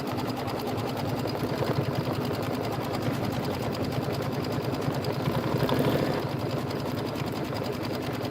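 An embroidery machine stitches beehive felt tack-down lines in a fast, rhythmic mechanical chatter that runs continuously and evenly, close and fairly loud throughout.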